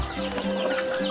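Chickens clucking close by, a short burst of several quick fowl calls heard clearly with no talk.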